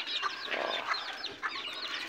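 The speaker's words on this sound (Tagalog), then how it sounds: "Ayan yung mga lovebird natin." Lovebirds in a loft give a busy string of high, squeaky chirps and chatters, fairly close and continuous, with no voices.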